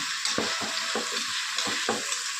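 Onions and green chillies fry in a pan under a steady close sizzle, while a utensil stirs in about five quick, rhythmic scraping strokes, with no talking.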